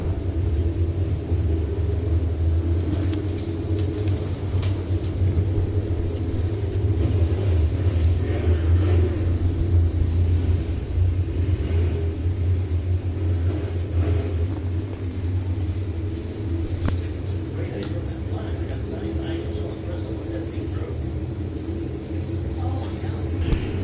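IMCA sport mod race cars roar around a dirt track during a night B main. A deep, steady engine rumble fills the whole stretch, and an announcer's voice calls the race over it.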